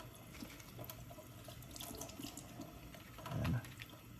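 Running tap water rinsing a lobster shell in a sink, a faint steady splash and trickle with a brief louder gush near the end.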